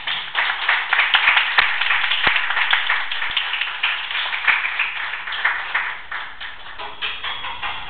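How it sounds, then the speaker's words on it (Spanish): An audience applauds university authorities at the inauguration of a courtroom-style hall for a mock hearing, steady moderate clapping filling the whole stretch with occasional sharper individual claps. "pido un afectuoso aplauso para las autoridades que hoy nos hacen el honor de acompañarnos"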